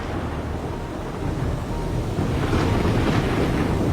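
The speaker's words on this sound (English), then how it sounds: "Rain poured down like a waterfall." Dense, steady roar of heavy rain and wind, a broad wash of noise that swells slightly louder partway through, with no voices.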